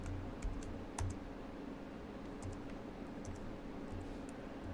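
Fingers tap a computer keyboard while code comments are typed, making soft, quick clicks in uneven bursts against a quiet hiss, with no talking.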